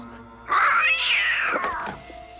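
A cat meows once, a long, loud, drawn-out call that rises and then falls. It sounds close and is heard on its own.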